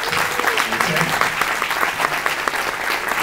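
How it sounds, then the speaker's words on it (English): An audience at a breakfast event claps steadily in a dense, sustained round of applause, fairly close and even throughout. "let's give a round of applause"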